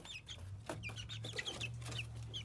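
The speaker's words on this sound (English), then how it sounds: "Well, there's a little chicken." A chicken clucks repeatedly by its coop in short, soft bursts over a low steady hum, fairly close but quiet.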